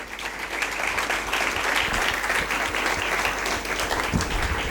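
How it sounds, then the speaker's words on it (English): Applause from the audience at Tanthra 2022, a student event of a postgraduate Human Resource Management department, as a steady, dense round of clapping fills the room for several seconds. "So can we have a round of applause for them, please?"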